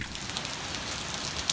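Rain falling steadily outdoors near a kayak launch platform, a dense even hiss of drops striking surfaces with a few brighter nearby splats, no voices.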